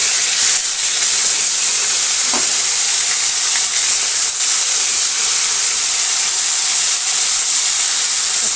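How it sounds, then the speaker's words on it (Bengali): Lote fish (Bombay duck) fries in hot oil in a wok in a village kitchen, giving a loud, continuous sizzle and hiss with a brief crackling pop partway through. "লোটা মাছটাকে ভাজবো"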